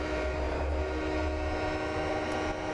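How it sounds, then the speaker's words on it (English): An EMD SD40T-2 freight locomotive in Train Simulator 2015 rumbles past at Soldier Summit, a steady loud diesel drone with deep low throb and a sustained horn-like tone, continuous throughout with no talking. "We are at Soldier Summit, and we're just going to watch our train go past"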